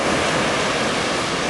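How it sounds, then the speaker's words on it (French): Ocean surf breaking at Anglet beach on France's Atlantic coast, a loud, continuous wash of broadband roar with no voices. "vous voyez il y a quand même quelques séries qui passent encore, c'est surfable, c'est propre"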